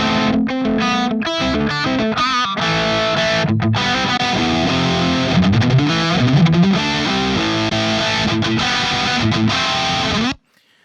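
An electric guitar plays distorted tones through an impulse response, with loud, dense chords and single-note runs that continue steadily and then cut off abruptly near the end.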